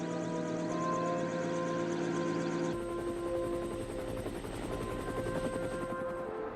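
Air-rescue helicopter from a Korean War MASH unit, a steady rotor drone with a tonal hum that shifts partway through and carries on without a break. No one speaks.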